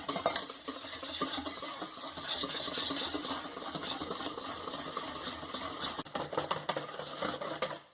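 Chocolate batter made with cocoa and flour is stirred in a bowl, producing a continuous close scraping and clinking of a utensil against the bowl with a soft wet patter, and a few sharper knocks near the end.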